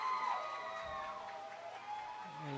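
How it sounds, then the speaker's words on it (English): Crowd cheering on the beach for a surfer's ride at the WSL La Union International Pro surf contest, a steady distant roar of voices and whoops that carries through the whole moment. "Certainly cheering him hard."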